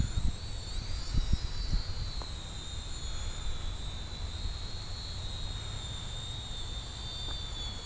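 Attop A10 quadcopter drone hovering at altitude, its motors giving a steady high-pitched whine with a faint hum, moderately distant and constant, with a few light knocks early on.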